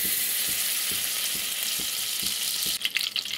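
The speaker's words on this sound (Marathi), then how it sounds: "हे बघा आता मी ना पातेल्यामध्ये फोडणी देते त्याला" Ghee heated in a cooking pot crackles with a steady frying sizzle for tempering, with faint regular ticks underneath and brighter bursts of spitting near the end.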